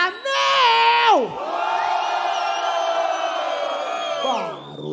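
At a semifinal rap battle in Barueri, a live crowd roars with loud, sustained cheering and drawn-out collective shouts that swell and fade over several seconds.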